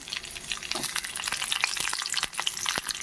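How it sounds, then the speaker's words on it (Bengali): Capsicum frying in hot oil over a whole bay leaf tempering, a steady bright sizzle with crackling pops running throughout, close and fairly loud, no voices. "ফোড়নে আর দিলাম একটা গোটা তেজপাতা এবার এর মধ্যে আমি ক্যাপসিকাম দিয়ে দিলাম"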